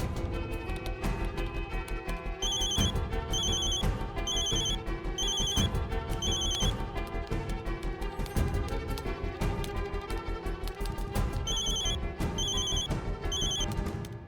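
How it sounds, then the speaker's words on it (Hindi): A telephone rings in steady repeated bursts of bright bell-like tones over loud continuous background music in a TV drama scene, with no speech. "अगर फोन सैटेलाइट है तो रिंग बजते ही जितनी भी फ्रीक्वेंसीज है वो सारी चेक करेंगे"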